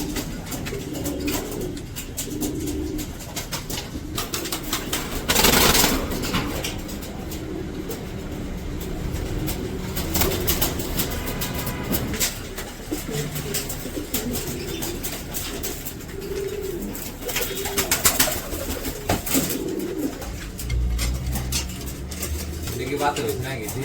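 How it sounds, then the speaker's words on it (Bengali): King pigeons cooing in a loft: soft, low, repeating coos run throughout, mixed with someone talking nearby and a steady background rumble. "সাদাটা এটাও কিং কবুতর।"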